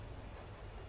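A game train runs with a steady, dense rumble and a thin high squeal from the wheels, continuous and fairly loud with no voices.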